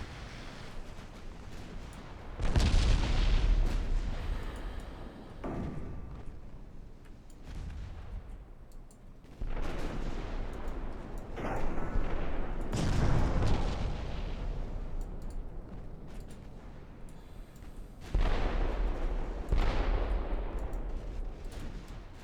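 Naval gunfire around a sinking Russian battleship in the Ultimate Admiral Dreadnoughts naval warfare game, with repeated heavy booming salvos and explosions every few seconds over a continuous rumbling din, loud and layered, with no talk.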